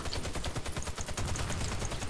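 Rapid pistol gunfire in the Warface shooter game, a dense run of close, loud shots crackling without pause through the whole stretch, with no talk over it.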